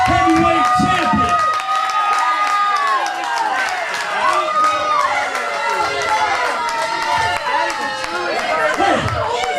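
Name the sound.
crowd cheering at a wrestling event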